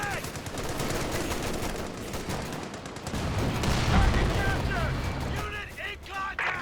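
Machine gun fire in the wartime strategy game Company of Heroes 2, continuous rattling bursts with a heavy thump in the middle, and someone talks over the battle.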